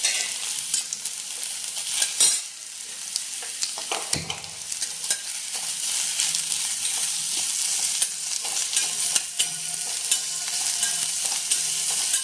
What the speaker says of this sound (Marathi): कांदा परतून घेऊया। अगदी थोडंसं तेल टाकायचं भाजण्यापुरतं।